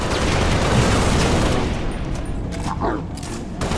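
Gunfire in a shooter video game, a dense fusillade of rapid shots and booms filling the whole stretch at steady loudness, with a brief voice mixed in underneath.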